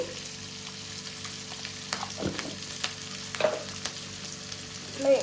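Chilli, onion and curry leaves fry in hot oil with a steady close sizzle, broken by a few stirring scrapes and clatters of the spoon in the pan.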